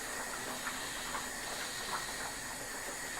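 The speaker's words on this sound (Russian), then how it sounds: "картошка вовсю кипит" Potatoes boil hard in a pot on the stove, a steady close hiss of rolling bubbles with a few faint pops, no voices.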